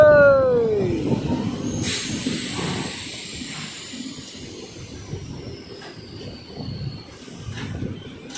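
MEMU express local train pulls into Dwarapudi railway station with a loud rumble, a rising wheel squeal at the start and a long thin screech fading across the middle, settling into a quieter rolling hiss.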